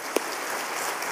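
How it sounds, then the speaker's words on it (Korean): Steady applause from a church congregation during a Sunday service, a soft even patter of many hands clapping, with a single sharper sound near the start. "우리 뜨거운 박수로 환영하고 축복하겠습니다"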